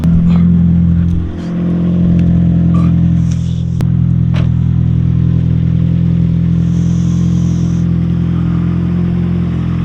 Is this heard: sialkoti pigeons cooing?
no